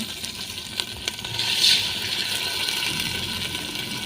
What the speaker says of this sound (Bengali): তারপর দিয়ে দেব পানি।